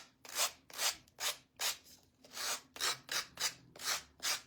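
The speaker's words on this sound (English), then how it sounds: "let's sand all these edges off here" Rough sandpaper rubbing along the edges of wooden paint sticks, about a dozen quick rasping strokes in a steady back-and-forth rhythm, close and fairly quiet with no talking.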